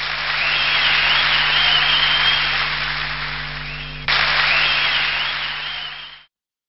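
Dense applause fills the space, many hands clapping together in a steady wash that softens and then stops abruptly, with no voices over it.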